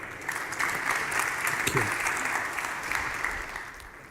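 Audience applause for conference panelists at a forum, broad steady clapping filling the room with a brief spoken thank-you over it.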